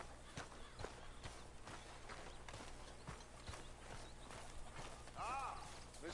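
Horse hooves clip-clop at a steady walking pace in Red Dead Redemption 2, a regular series of soft hoof strikes under a low ambient hum, with someone talking over them.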